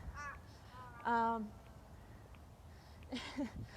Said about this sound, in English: Lovely crows.